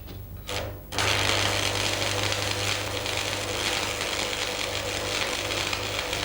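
Electric arc welding during a training demonstration, a steady loud crackling and hissing arc that starts abruptly after a brief quiet moment and then holds continuously with a low hum underneath.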